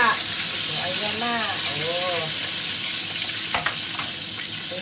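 Tilapia fish frying in a pan after being flipped gives a steady, close hiss of sizzling oil with light stirring scrapes. A voice is heard briefly over the sizzle.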